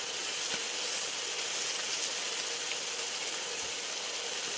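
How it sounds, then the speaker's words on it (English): Chicken fajita meat sears in a sizzle pan, giving a continuous soft hiss and crackle of frying at an even, moderate level with no voices. "by letting it sit and sizzle for a minute, you're going to get that."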